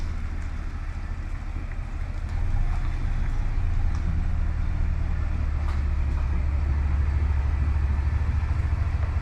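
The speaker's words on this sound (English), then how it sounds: "I'll back the truck in." Low steady rumble of a truck engine backing in at a woodyard, a continuous loud drone that grows slightly heavier partway through, with wind noise and no talk.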